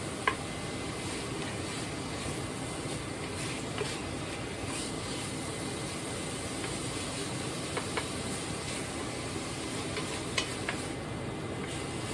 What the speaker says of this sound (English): Now I'm going to put my hamburger meat in.